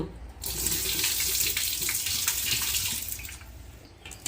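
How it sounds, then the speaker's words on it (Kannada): Rice is washed in water in a bowl or basin, water splashing and swishing steadily, a continuous close-up washing sound with no talking. "ಚೆನ್ನಾಗಿ ಒಂದು ತ್ರೀ ಟೈಮ್ಸ್ ನೀರು ಹಾಕಿ ತೊಳ್ಕೊಳ್ಳೋಣ"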